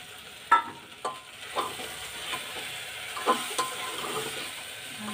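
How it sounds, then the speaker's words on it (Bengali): Potatoes sizzle gently in a pan during cooking, with soft spoon scrapes and stirring clatters recurring every second or so at close range. No one speaks. "আলুগুলো দিয়ে আবার একবার কষিয়ে নেব।"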